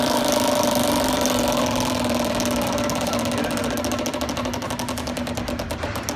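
A Wheel of Fortune prize wheel spins at a home show event, its ticking clicks rising out of a loud, noisy crowd and slowing toward the end.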